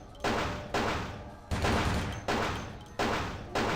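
Repeated loud gunfire from the video game Vampire the Masquerade Bloodlines: bursts roughly every three-quarters of a second, each a sharp blast with a decaying tail, rapid volleys close up with no talk.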